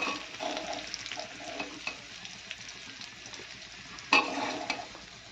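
Chow mein frying and being stirred in a pan, a steady close sizzle with scraping stir strokes and a sharp clatter near the end.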